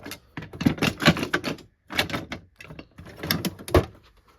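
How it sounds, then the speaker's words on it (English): Tools and a screwdriver being put away in a home workshop, with a run of clattering knocks, taps and sliding bumps, fairly close and moderately loud, pausing briefly before a second burst of handling. "Put my screwdriver away."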